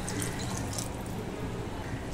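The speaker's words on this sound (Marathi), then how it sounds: "तर हा 1 वाटी पाणी ह्याच्यामध्ये गेलं" A bowl of water is poured steadily into basmati rice in a pot for vegetable pulao, making a close, continuous splashing rush.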